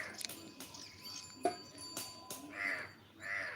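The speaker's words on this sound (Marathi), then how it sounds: "अरे हा म्हणतो बघ कावळा" Crow cawing twice in a rural village setting, two drawn-out harsh caws near the end after faint scattered noises, fairly close and clear with no talking.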